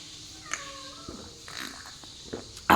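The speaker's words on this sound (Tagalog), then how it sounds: "Akong sinusundan na pusa mo." A domestic cat meows faintly a few times at modest distance, with light rustling and a brief louder knock near the end, in a quiet indoor room.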